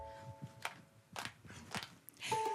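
Four sharp claps spaced irregularly, crisp and fairly close, each one short and snappy.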